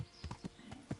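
Horse hooves clip-clop in the video game Kingdom Come: Deliverance, four or five soft, evenly spaced footfalls heard faintly and alone.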